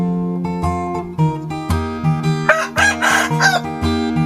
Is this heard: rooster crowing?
yes